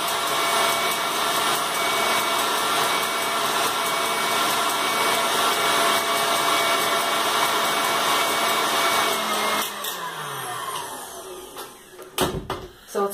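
KitchenAid stand mixer whipping egg whites into peaks for meringues, a steady loud whirring hum that runs continuously, then drops in pitch and slows near the end with a few clunks.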